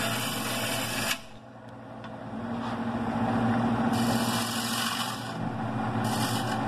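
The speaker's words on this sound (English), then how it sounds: "I just stick the end of my chisel on the edge and get a good catch" Lathe turning a Sipo mahogany square bowl, with a steady whirring, rubbing cut under the chisel and an abrupt break where the tool catches on the edge, then the cutting resumes, close by.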